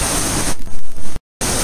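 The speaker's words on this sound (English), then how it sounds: "waterfalls coming down. Obviously you can hear it. There's a lot of water down there." Waterfall water thundering down inside a tunnel, a loud broadband roar of rushing water that briefly dips and then cuts out before returning.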